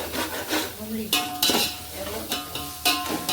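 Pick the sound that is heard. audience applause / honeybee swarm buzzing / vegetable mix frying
vegetable mix frying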